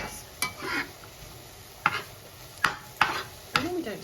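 Pressed garlic and chunky onion being stirred as they fry in a pan for Quorn spaghetti bolognese: soft sizzling under several distinct scrapes and clinks of the utensil against the pan, spaced irregularly.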